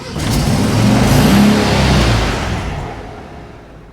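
A 1965 VW Bus engine revs up loud and close, its rough rumble swelling to a peak and then dropping back as the throttle eases.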